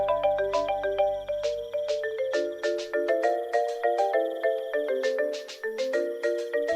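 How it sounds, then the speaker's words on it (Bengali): A phone ringtone plays a bright, repeating chime melody, clear and unbroken, with no voices. "এরই মধ্যে ফোনটা বেজে উঠলো"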